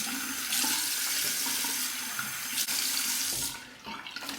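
A tap runs steadily into a sink while a face is rinsed after a shave with a Fatip Lo Storto open comb slant razor, a close, constant gush with small splashes that thins out near the end.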